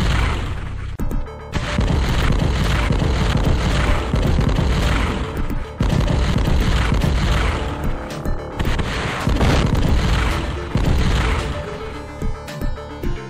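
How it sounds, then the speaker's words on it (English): Loud, continuous barrage of deep booms and crashing blasts from a nuclear missile launch and explosion in the strategy video game DuneHack, with repeated heavy impacts rolling and swelling over several seconds. "Nuclear missile launched."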